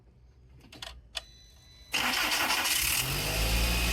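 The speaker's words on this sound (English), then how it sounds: "Started right up." A VW 2.0 engine is cranked with a few brief clicks and a short whir, then catches abruptly and settles into a loud, steady idle for the remaining two seconds.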